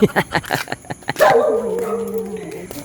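Several sharp dog barks in quick succession at 3 AM outdoors, followed by a longer drawn-out yelp or whine that fades, fairly close and loud.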